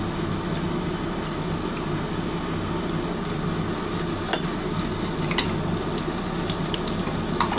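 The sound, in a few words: deep frying battered eggplant fritters (beguni)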